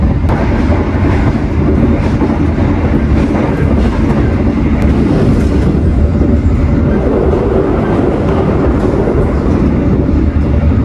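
The Gumarang passenger train runs at about 98 km/h, a loud, continuous rumble of wheels on rails heard from inside the carriage, with a steady roar and faint clatter throughout.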